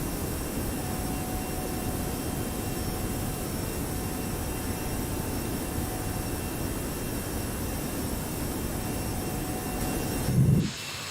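Airbus A321-200 jet engines roar in the X-Plane 12 flight simulator after departure, a dense, constant broadband hiss and rumble at steady loudness with a brief thump near the end.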